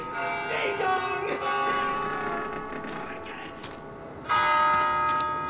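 In the video game Left 4 Dead, a church bell rings with long, resonant overlapping tolls, a second loud strike near the end, amid faint game noise.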